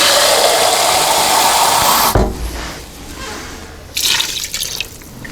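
Water pours steadily into a cooking pot for about two seconds, then stops, followed by quieter splashing and a brief second trickle of liquid.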